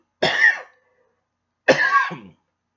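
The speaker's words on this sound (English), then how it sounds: "the more I talk, the more I cough" Two short, harsh coughs separated by a pause of about a second, close and clear with silence around them.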